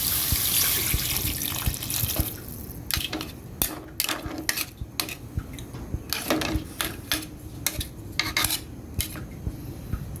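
Water runs steadily into a metal pot for seafood soup, with a bright splashing hiss at first, then occasional clinks and knocks from cookware.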